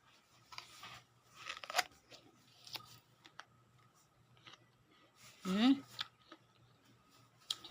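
A crisp bite into an apple gives a short crunch, followed by chewing, amid quiet talking close by.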